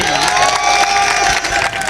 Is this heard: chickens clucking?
no